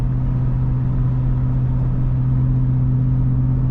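Ford F-150 Raptor R 5.2L V8 exhaust in sport mode at steady highway speed towing an enclosed trailer, a continuous deep humming rumble with strong low tones, constant and close, no talk.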